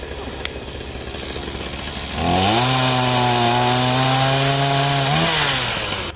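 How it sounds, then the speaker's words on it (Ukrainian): A chainsaw idles, then revs up to a steady, loud high-pitched whine as it cuts through logs cleared from a river for several seconds before easing off. "Інші розпилювали колоди"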